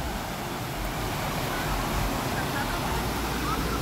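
A waterfall near Barra do Garças, Mato Grosso gives off a steady, loud rushing roar of falling water that stays even and unbroken throughout, with no voices.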